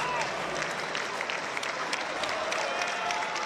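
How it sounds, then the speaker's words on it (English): A crowd applauding steadily at a college volleyball match between Loyola Chicago and Stanford, a dense continuous wash of clapping that fills the arena throughout. "And everyone's clapping their hands"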